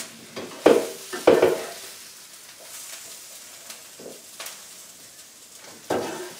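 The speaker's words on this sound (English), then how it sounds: "I'm going to take this and start to dump that into the gnocchi here" Sauce is poured into gnocchi in a pan and stirred, bringing a few close scraping and sloshing bursts over a soft sizzle, with quieter stirring between them.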